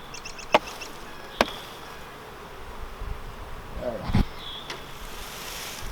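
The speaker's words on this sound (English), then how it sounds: "There's lots of bees over here" Honey bees hum softly and steadily around open hive boxes while nucs are being split, with a few sharp knocks and clacks of equipment cutting through the buzz.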